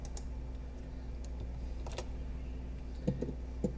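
Keys clack on a computer keyboard in sparse, quiet taps over a steady electrical hum, with a few clearer clicks toward the end while someone codes in C#.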